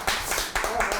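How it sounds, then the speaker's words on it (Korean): A short burst of audience clapping in a room, a few quick claps over about a second, mixed with nearby voices talking. "이거 나올 때 가장 먼저 박수 치신 분이 대표님이에요"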